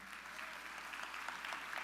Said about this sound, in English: join me in giving a round of applause as he comes to the stage